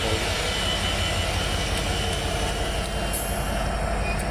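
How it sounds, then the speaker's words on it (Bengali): A train rumbles steadily at close range at Padma railway station in Jajira, Shariatpur, Bangladesh, a continuous low, heavy mechanical roar with faint metallic squeals and hiss above it. "আপনারা দেখছেন পদ্মা রেলওয়ে স্টেশন"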